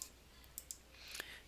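Faint, sharp mouse clicks on a computer come in quick succession amid quiet background noise, with no talking.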